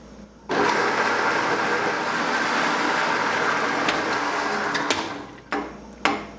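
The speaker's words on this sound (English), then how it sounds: "All I need to do is plug in my drill press." A drill press bores a 1-inch hole in bloodwood, a steady loud whirring grind of bit on wood lasting several seconds, then winding down with a couple of brief knocks.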